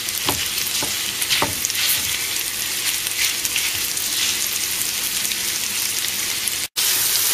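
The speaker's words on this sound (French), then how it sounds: "vous allez pouvoir dans une seconde poêle mettre les chipolatas en fait à cuire" Courgettes and chipolata sausages fry in pans, a loud, steady sizzle with scattered crackles and pops that runs unbroken apart from a brief cut near the end.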